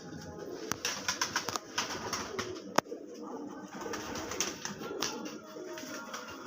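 Pigeons land on a rooftop during an Amritsar pigeon-flying tournament, with a rapid series of soft taps and wing flaps, a sharp knock, and faint cooing over background ambience.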